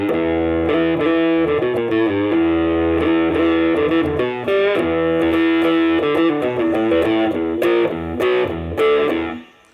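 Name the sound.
electric guitar through JHS AT Plus pedal, drive fully up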